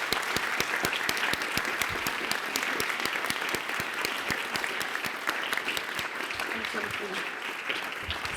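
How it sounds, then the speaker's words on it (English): Conference audience applauding Nathalie Seddon at the close of a nature-based solutions session, a dense, steady round of clapping that continues throughout, with faint crowd murmur underneath. "Let's all give her a huge round of applause."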